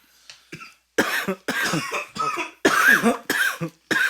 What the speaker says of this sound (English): sorry, coughing quite a bit here today